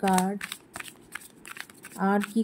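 Tarot cards are shuffled and drawn, giving quick papery riffles and soft slaps, close and fairly loud, with a voice briefly heard at the start and again near the end.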